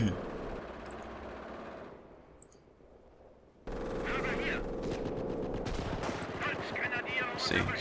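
Machine-gun and rifle fire rattle in the World War II strategy game Company of Heroes Blitzkrieg during a forest skirmish, dense bursts that cut out briefly and then return louder, with talk heard over the battle.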